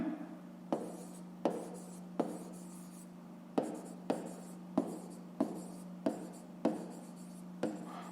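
A Grade 5 math exercise being written out by hand, a pen scratching across paper in short separate strokes, each starting with a sharp tap and trailing off, about a dozen strokes at an uneven rhythm, close and quiet.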